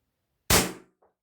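A single loud, sharp crack from a CO2-powered 0.177 BB pistol with heavy blowback, a Combat Master replica, fired close by, followed by a short faint metallic click as the action settles; otherwise quiet.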